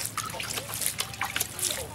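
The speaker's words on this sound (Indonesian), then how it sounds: "kita siram seperti ini" Liquid probiotic mixture poured over fermented animal feed, a trickling, splashing stream heard close under someone speaking throughout.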